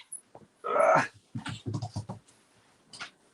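Pet dog making a short loud whine or vocal burst close by, followed by quieter snuffling and low vocal noises, then a faint sound near the end.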